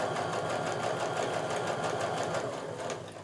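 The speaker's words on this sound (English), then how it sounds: "I'm just going to go ahead and sew along" A sewing machine runs steadily while stitching quilt pieces together, a continuous close-up whirring hum with a rapid mechanical needle rhythm throughout, tapering slightly at the end.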